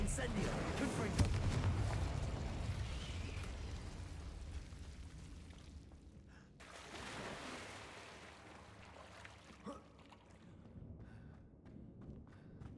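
Spell blasts and fiery explosions from Hogwarts Legacy on PS5 rumble and burst in a dense, roaring wash, with a few sharper pops later as the din fades, while a voice talks over it.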